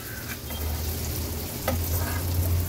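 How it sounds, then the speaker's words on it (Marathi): Slices of suran, elephant foot yam, shallow-frying in a little oil in a pan, giving a steady soft sizzle with a couple of faint clinks as pieces are handled. "आपण हा सुरण फ्राय करत ठेवला होता"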